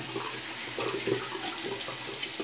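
Running tap water splashes steadily as a Rockwell 6S safety razor blade is rinsed at a bathroom sink, close and continuous with small fluctuations in the flow.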